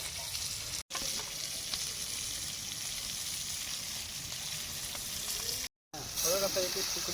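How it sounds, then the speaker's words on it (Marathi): Chicken pieces fry on a clay roof tile over a fire, giving a continuous close crackling sizzle with brief gaps and a voice speaking at the end. "बघा कसं एक तुकडी मस्त शिजवत आहे चिकनची."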